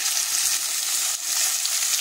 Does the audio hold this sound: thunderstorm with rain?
no